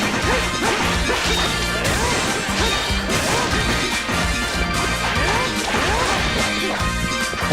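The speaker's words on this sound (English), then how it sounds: "By the way, you can always exit through the holes you make through smashing things as Ozma" Dense, loud game combat from Ys 4: Memories of Celceta, with repeated heavy smashing and crashing impacts as the character Ozma breaks things, layered over continuous music and effects without pause.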